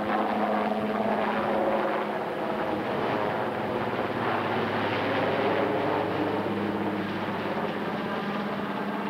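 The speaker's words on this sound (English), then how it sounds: "Three helicopters from the French aid organization Armée de Terre take off for northern Albania." Three military helicopters taking off, rotors roaring continuously with a heavy, throbbing drone mixed with wind buffeting, loud and sustained throughout.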